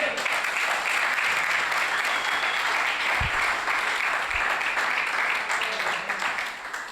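A church congregation applauds during a Spanish-language sermon, a dense steady clapping that continues throughout with a couple of low thumps partway through.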